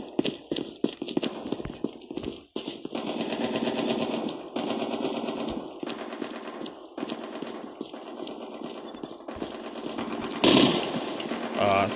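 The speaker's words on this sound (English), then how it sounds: "It's a fucking M16, so I gotta be very accurate." Rapid M16 rifle fire from the mobile shooter Call of Duty Mobile, dense bursts of automatic-sounding shots running almost continuously with game sound effects layered over them, loud and close throughout.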